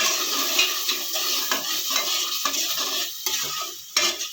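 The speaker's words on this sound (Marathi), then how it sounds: "गॅसची फ्लेम फुल ठेवून हे सर्व मसाले आपल्याला हे परतून घ्यायचे" Spice masala stir-fried on full flame, a sizzling hiss broken by repeated scraping and clinking of a spoon against the pan in an uneven stirring rhythm, close and without talk.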